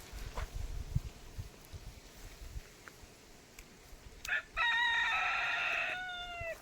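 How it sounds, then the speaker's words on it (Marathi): A village rooster crows once, loud and drawn out, near the end, after a stretch of quiet outdoor ambience with faint rustling and scattered soft clucks from chickens roaming nearby. "इथे कोंबड्या तर बघू शकता कसल्या फिरतात"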